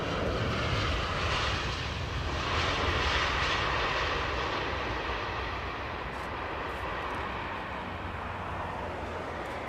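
An airliner landing at Heathrow, its jet engines a loud, steady, broadband roar that holds close and even throughout, easing slightly toward the end, with no talk.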